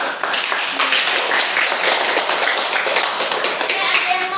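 Classroom applause, children clapping together in a dense, fast patter that carries on steadily for several seconds, close and fairly loud.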